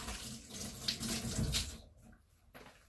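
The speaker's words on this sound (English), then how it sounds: "I'm going to quickly wash my hands." Hands being washed under a running kitchen tap, a close splashing gush of water into the sink that stops partway through, followed by a few faint drips and light movements.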